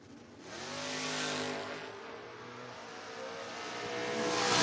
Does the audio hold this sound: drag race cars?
yes